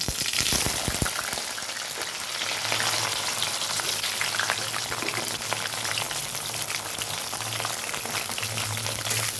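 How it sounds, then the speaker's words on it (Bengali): Bitter gourd pieces frying in hot mustard oil in a karahi, a steady dense sizzle with crackling spatter running throughout, close and fairly loud with no voices. "তো এখানে আমি উচ্ছেগুলো ছেড়ে দিচ্ছি ভাজার জন্য।"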